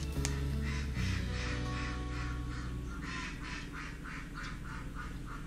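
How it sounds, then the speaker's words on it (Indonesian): A flock of domestic ducks kept next door quacks in a steady, repeated chorus of loud nasal calls, fairly close by and continuing throughout with no talking. "maaf ada suara bebek itu, tetangga pelihara bebek banyak banget."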